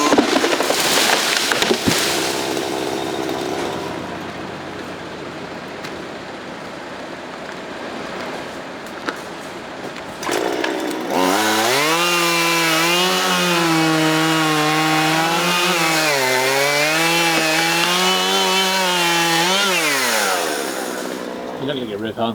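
Scraping and rustling wood sounds give way to a loud harvester-mounted chainsaw in a video game that bites into a tree and runs at high pitch for several seconds, wavering under load, then cuts out.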